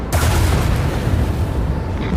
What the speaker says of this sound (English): Another knock on the macro cannon.